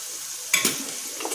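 A paneer paratha fries in peanut oil on a hot pan, giving a steady close sizzle that jumps briefly louder as the oil goes on, then settles into a soft continuous crackle.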